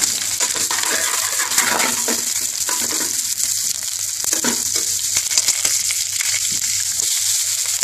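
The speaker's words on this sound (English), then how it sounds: "Wait for the oil to get heated up. Dropping the garlic in now." Garlic sizzles in hot oil in a pan, a loud, continuous crackling fry with dense pops and spits throughout and no talk, while cooking Bengali-style tarka dhal in Indian restaurant fashion.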